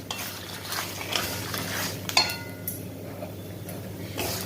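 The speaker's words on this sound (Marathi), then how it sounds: "सर्व साहित्य छानपैकी भाजून घ्यायचं आहे" Curry leaf chutney ingredients being dry-roasted in a pan over medium heat, with soft stirring scrapes and a few light clinks of a utensil against the metal, faint and steady throughout.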